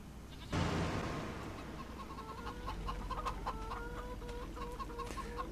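Chickens cluck in the farm game Farming Simulator 25, with a burst of noise at the start followed by soft, repeated clucks and chirps over a steady low ambient hum.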